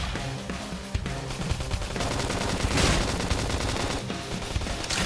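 Dense bursts of rapid gunfire crackle continuously in the video game Xenoblade Chronicles X, loud and close, with rattling automatic fire and overlapping shots.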